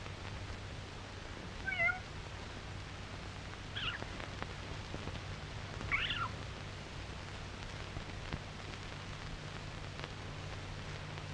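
Kittens meowing in a barn, with a few brief, faint mews spaced a couple of seconds apart over a steady low hum and hiss.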